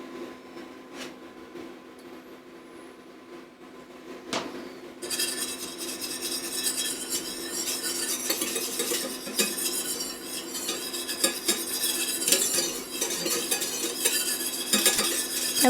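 Wire whisk beating a citrus zest mixture in a bowl, starting with a few faint metallic taps and then turning into steady, rapid scraping and clinking against the bowl that grows louder, with no talking.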